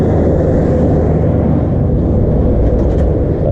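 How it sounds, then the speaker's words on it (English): A tractor passes close by on a road near a village, its loud, dense low engine roar and rumble filling every moment without a break. "Excuse the noise of the tractor."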